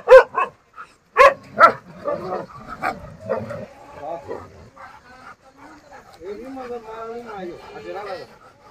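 Himalayan sheepdogs fighting, with sharp loud barks and yips in short bursts at first, then growling, whimpering scuffle noises, while someone talks over the later part.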